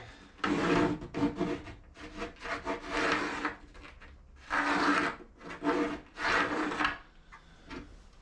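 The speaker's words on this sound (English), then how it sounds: "I'm just gonna scribe this guy" A wooden bench seat piece for a van build is scribed, making repeated short rasping strokes against the wood in close bursts with brief pauses between them.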